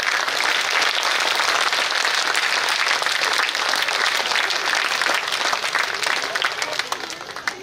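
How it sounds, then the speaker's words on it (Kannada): A crowd gives loud, sustained applause for students at a gathering, dense, steady clapping that holds for several seconds before starting to taper off. "ಎಲ್ಲರೂ ಒಂದ್ಸರಿ ಆಶೀರ್ವಾದ ರೂಪದಲ್ಲಿ ಅವರಿಗೆ ಜೋರಾಗಿ ಚಪ್ಪಾಳೆ"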